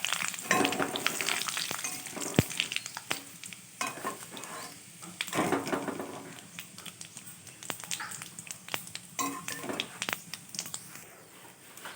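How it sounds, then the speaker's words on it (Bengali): Whole spices, including bay leaf, dried chilli, cumin, cinnamon and cardamom, crackle and sizzle in hot oil for a vegetarian taro-leaf dish, with continuous spitting and popping and a few scrapes of stirring. "তেল আমার গরম হয়ে গেছে এবার আমি ফোড়নটার মধ্যে দিয়ে দিচ্ছি"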